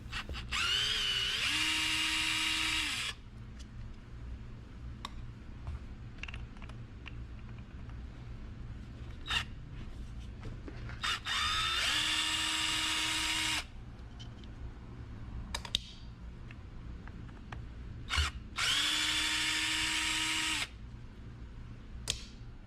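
Power driver backing Phillips-head screws out of a Shine Mate car polisher's shroud: three loud, steady whining bursts of a few seconds each, separated by quieter handling clicks and clatter, close up.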